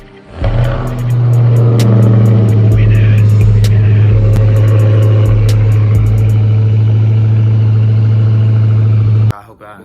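A Dodge Charger SRT cold-starts, its engine catching and settling into a loud, steady high idle with a deep droning note that runs for several seconds, then cuts off abruptly at the end.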